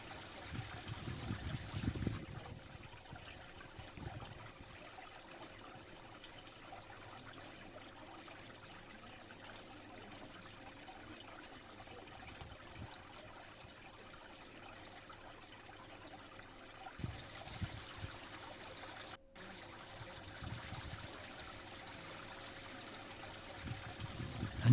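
Water gently flows and trickles in a soft, continuous wash at low level, with a low steady hum and a few louder rushes near the start and middle.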